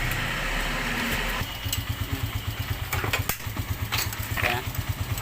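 A Yamaha Crypton motorcycle engine, freshly overhauled, is started and runs at a steady idle with a fast, even thumping pulse, close and fairly loud, after a brief starter whir, with no exhaust pipe fitted.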